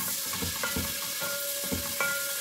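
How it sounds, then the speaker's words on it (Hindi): Boneless chicken karahi with garlic-ginger paste frying in a pan, a steady close sizzle broken by soft scraping and tapping as it is stirred. "1/1 टीस्पून लहसुन अदरक की पेस्ट, इसको हम स्टर करते हैं।"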